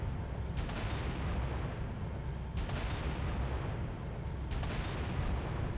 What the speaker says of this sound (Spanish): ya le di los tiros, avanzo un poquito y le voy a dar sus tiros al antiaéreo de allá